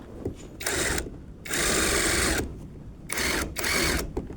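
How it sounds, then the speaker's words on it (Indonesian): An impact wrench tightens bolts on mobile sound system equipment, firing in four loud buzzing bursts of varying length with short quiet gaps between them. "untuk mempermudah kita gunakan impact untuk mengencangkan"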